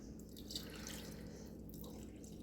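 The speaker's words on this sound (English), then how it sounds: "I don't like to use too much water, especially in this rice cooker." Water pours into a rice cooker with a steady, soft, close trickle and splash that lasts throughout, fairly faint, with no talk over it.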